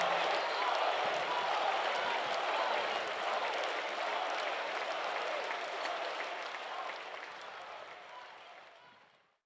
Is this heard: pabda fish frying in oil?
no